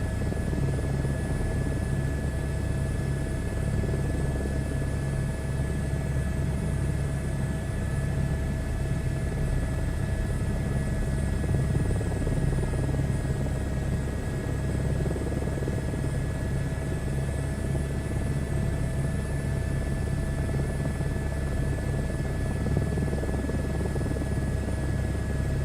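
A helicopter flies cross-country over Wales and the west of England, its steady rotor and engine drone filling the whole stretch at constant, loud, close level from inside the cabin, with no talking.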